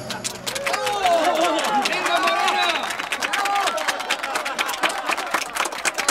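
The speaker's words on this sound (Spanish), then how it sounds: "La hermosa gitana está agradeciendo los aplausos" A crowd gives lively applause and cheering for a beautiful Gypsy dancer in front of Notre-Dame cathedral in Paris, dense clapping mixed with chatter under a narrator's voice.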